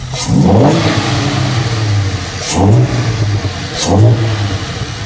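A Ford Mustang engine with an Airaid cold air intake revs three times, each rising then falling, with a throaty exhaust note and steady idle rumble between pulls.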